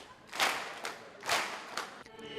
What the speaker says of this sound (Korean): 힘차게 부르는 내영의 노래와 함께 박수를 치며 하나님을 목청껏 찬양했다